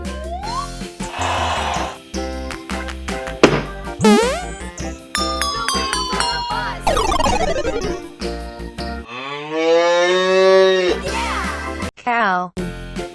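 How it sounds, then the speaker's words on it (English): Cartoon cow mooing in a children's farm-animal song, a drawn-out low call rising over bouncy music with chimes and jingles, close and loud. "Cow."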